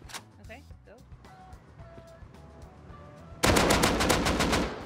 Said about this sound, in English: Might be a shotgun shot.